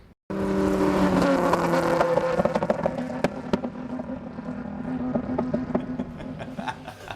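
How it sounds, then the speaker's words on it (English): A race car on the front straight of a road-racing circuit at The Ridge during a Lemons endurance race, its engine roaring loud and close with a droning tone, shifting and crackling as it accelerates past. "this is what your car sounds like when it's going down the front straight"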